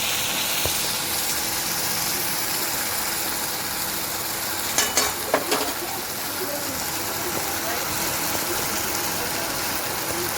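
A cinnamon stick, a cardamom pod, three cloves and a little cumin tempering in hot oil for Kashmiri aloo dum, giving a steady, loud hiss throughout with a couple of brief crackles near the middle.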